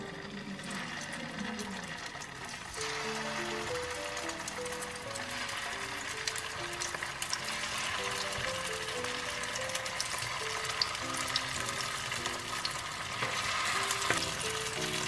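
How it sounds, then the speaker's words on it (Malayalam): Poha (flattened rice) cutlets frying in a pan over medium heat give a steady, continuous sizzle that runs the whole time beneath background music. "ഇനി നമുക്ക് കട്ട്ലേറ്റ് ഇതിനകത്തോട്ട് ഇട്ട് കൊടുക്കാം."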